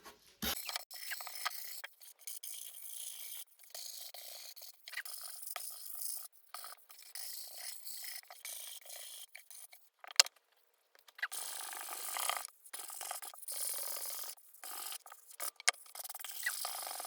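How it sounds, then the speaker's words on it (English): Sandpaper rubbing over the edges, corners and flat surface of a resin art panel, a close, raspy scraping in repeated strokes with brief pauses between passes. "And I sand the corners, like the edges here, and also the flat part."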